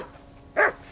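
One sharp bark from a dog in the video game Kingdom Come: Deliverance II, a single brief, fairly loud yelp rising out of low game ambience, with no other voices.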